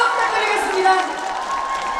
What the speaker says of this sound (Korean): 여러분들 큰 박수